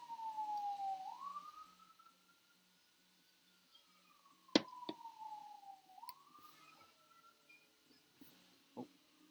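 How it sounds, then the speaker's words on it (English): An ambulance siren passes by, its faint, steady wailing tone rising and falling in slow sweeps. A few soft clicks and knocks sit alongside it in an otherwise quiet room. "So I got this ambulance passing by right here."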